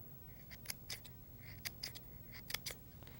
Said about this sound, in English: And I'll just trim a little fringe around the edge.